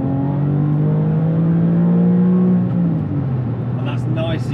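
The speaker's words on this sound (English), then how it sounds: "40 miles an hour, let's go second gear." Porsche 911 of the 996 generation, its flat-six accelerating hard in second gear, a loud rising engine drone heard from inside the cabin that climbs steadily in pitch, then eases off as a voice speaks over it near the end.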